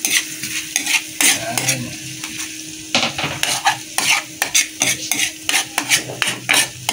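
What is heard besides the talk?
frying and stirring garlic in a pan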